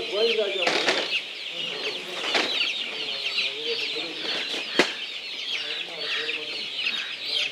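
Caged month-old chicks on a poultry farm in Dharmapuri flap their wings and cluck as they are caught, with busy, close wing-beats and chirps running throughout.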